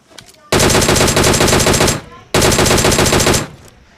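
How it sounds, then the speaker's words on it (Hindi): Automatic rifle fire in the PUBG battle royale shooter, two sustained loud bursts of rapid shots, each over a second long, separated by a short pause. "जैसे ही मैं आगे गया तो उस बंदे की गन फायरिंग आती है मुझे"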